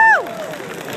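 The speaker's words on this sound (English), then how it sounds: "give her a big round of applause" An audience at a Charlotte fashion event bursts into a short round of applause, a dense steady clatter of many hands that briefly follows a fading tone.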